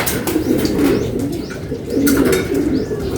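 Pigeons kept for sale coo in a soft, repeated low rhythm, with occasional chirps and faint wing flutters mixed into a steady background.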